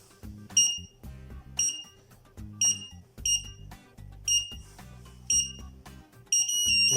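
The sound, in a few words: airsoft bomb countdown beeping every second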